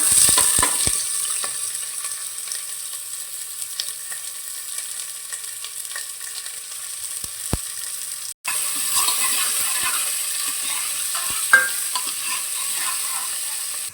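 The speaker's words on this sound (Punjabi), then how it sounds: "ਤੇ ਪਿਆਜ਼ਾਂ ਨੂੰ ਇੱਥੇ ਆਪਾਂ ਚੰਗੀ ਤਰ੍ਹਾਂ ਭੁੰਨ ਲਿਆ ਜੀ ਥੋੜਾ ਜਿਹਾ" Onions and green chillies frying in a pan for kadhi, a steady broad sizzle that holds for the whole stretch, with occasional stirring scrapes and one short break partway through.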